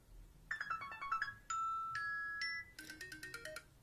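A phone clock app plays ringtone or alarm sound previews: short bright chime melodies, a run of quick tinkling notes, then sustained electronic tones and a fast repeating jingle, clear and close with no talking.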